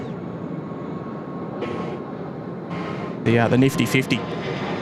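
A Cathay Pacific airliner on short final approach to runway 34 right gives off a steady, distant jet roar, while a voice talks over it and a brief louder rumble rises near the end.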